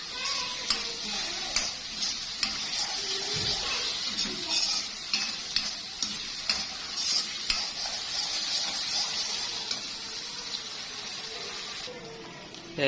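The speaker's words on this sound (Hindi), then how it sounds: "अब अच्छे से इसकी भुनाई कर लेंगे" Beef karahi sizzles steadily in hot oil in a wok, with repeated scraping stirs of the spoon against the metal, close and loud throughout, ending with a brief drop in the frying noise.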